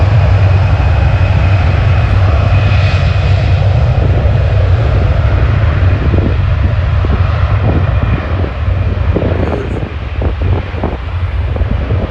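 A Boeing 737 taking off at Schiphol produces a loud, continuous jet engine roar with heavy low rumble and wind buffeting on the microphone, holding steady for the whole stretch with no voices.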